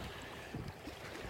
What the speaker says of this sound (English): Very windy up here, as you can hear.